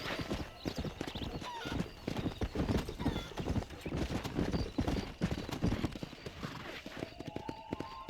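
Galloping horse hooves in the Western game Red Dead Redemption, a dense, continuous pounding close by with a whinny partway through and busy background sound throughout.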